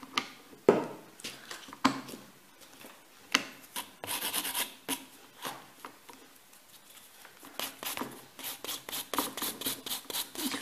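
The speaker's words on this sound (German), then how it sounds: "Ich feile den Übergang hinten." Nail file rasping across a fingernail during a manicure, quick repeated strokes, close and fairly quiet, in uneven bursts with short pauses between.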